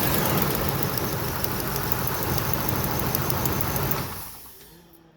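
A Workhorse 8.1 engine in an RV runs with a loud, rough, steady roar for about four seconds, then fades away and cuts out near the end.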